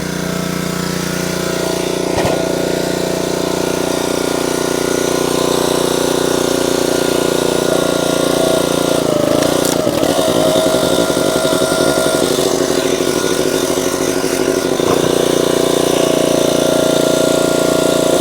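An engine-powered log splitter drones loud and steady throughout while splitting poplar firewood with a four-way wedge, with a rougher rattling, crunching stretch in the middle as the wood gives way.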